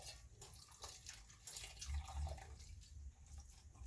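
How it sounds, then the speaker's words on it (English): Cold water poured into fry bread dough, a faint trickling and splashing of liquid with small irregular bumps and soft low thuds from the bowl. "And then we are going to add in the cold water."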